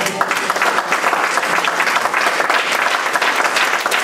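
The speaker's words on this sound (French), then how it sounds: "je crois que vous allez acclamer" Sustained applause from a church audience, steady and full, with many hands clapping close together for the whole stretch and no clear voices above it.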